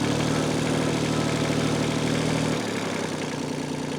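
Kubota L245H tractor diesel engine running in gear, a loud steady low throbbing hum with a knocking edge that drops slightly in pitch and level partway through, with no talk.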